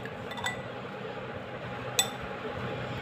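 Utensils clink against a bowl while apple and banana fruit chaat is mixed, with a couple of sharp clinks standing out over a soft, steady background of stirring, and no talking.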